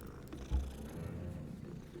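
Cats purring in the video game Hogwarts Legacy, a soft, low, continuous rumble with one brief swell near the start, faint and close.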